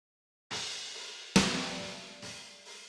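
Drum mix from an epic hybrid trailer track with the snare gate switched off, letting the snare and room sound ring: a sparse few hits, one loud sharp snare crack with a long decaying room tail, heard alone.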